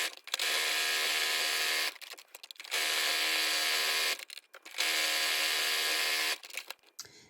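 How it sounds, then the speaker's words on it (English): A sewing machine runs in three sustained bursts, stitching fabric for a drawstring bag with a steady mechanical whir, separated by short pauses for pivoting the cloth. "put the presser foot back down and continue stitching on"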